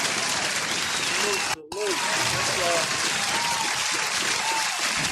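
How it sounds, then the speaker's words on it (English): Studio audience applause at a live podcast recording, a continuous dense clapping and cheering with a brief break, while voices call out over it. "You hear that applause?"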